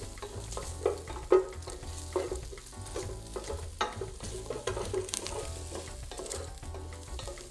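Strips of bacon fry in a pan with a steady, close crackling sizzle, broken by the scrape and clatter of stirring; no voices.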